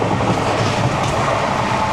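Inside a sleeper class carriage of a moving train, a loud steady rumble of wheels on rails fills the space with dense, continuous rolling noise and no talking.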